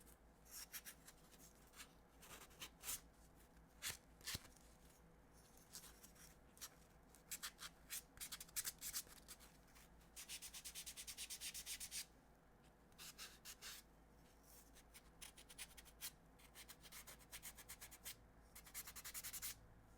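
Dry scraping strokes of sandpaper worked over a piece of wood, close and fairly quiet, coming in irregular bursts of rubbing with short pauses between them.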